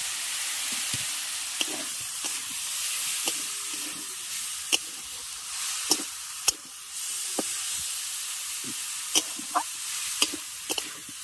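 Small marinated chicken pieces, with sour yogurt, frying and being stirred in a pan for chicken patties: a steady hissing sizzle broken by sharp clicks and knocks of a spatula against the pan, near and with no talking.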